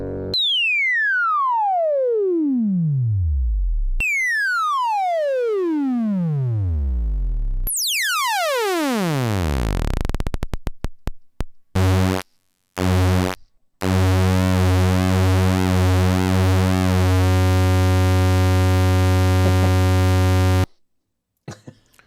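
Synthesizer oscillator tones sweeping downward in pitch, pure sine first, then brighter buzzier waveforms, ending in sustained harsh sawtooth and square notes that cut on and off.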